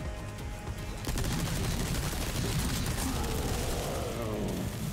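A big grenade goes off in Resident Evil 4 Remake with a sudden loud blast about a second in, then a sustained roar of crackling, rumbling noise that fills the rest of the moment.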